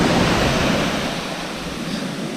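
Sea waves breaking on the shingle shore at Pevensey Bay in East Sussex, a continuous broad rushing wash of surf with some wind noise and no voices.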